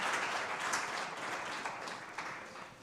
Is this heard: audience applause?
yes